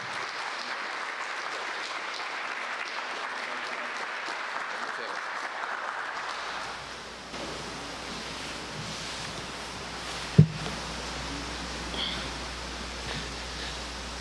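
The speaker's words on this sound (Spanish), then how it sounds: "Le damos un aplauso." A lecture audience applauds to welcome a speaker, a soft wash of distant clapping that fades partway through, leaving room tone and a single brief knock.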